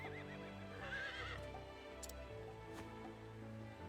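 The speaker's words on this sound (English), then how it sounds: "Not even going to try to do the horse sound." In the Octopath Traveler 2 video game, a horse whinnies near the start, a quavering neigh rising and falling over steady background music, followed by faint hoof-like clicks.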